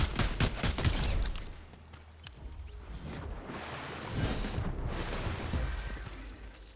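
Rapid shots from a gun in Fortnite crack in quick succession at the start, then give way to a rumbling wash of mid-distance game noise with further muffled bursts.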